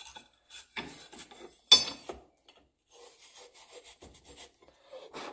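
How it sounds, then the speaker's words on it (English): Pipe wire brush scrubbing dust and dirt out of a Club Car golf cart front suspension part: short, irregular scratchy bursts of rubbing, one louder scrape, separated by quiet gaps at close range. "I have pipe wire brushes just to get all the crap out of there, any dust, dirt"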